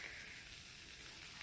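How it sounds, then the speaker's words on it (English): A steady, close hiss of cheese sizzling on the hot plates of a waffle maker, even and unbroken throughout. "And here it's sizzling up."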